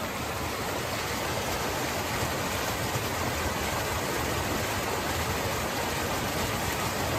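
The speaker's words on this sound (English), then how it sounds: "Pretty amazing waterfall, right?" A waterfall roars in a broad, steady rush of falling water, close and constant throughout with no voices.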